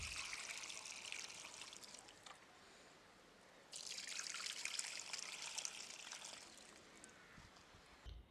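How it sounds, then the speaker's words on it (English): Water trickling and pouring steadily onto chrysanthemum plants, a soft splashing stream that pauses briefly in the middle and then resumes, fairly close and quiet. "It's time to water thoroughly."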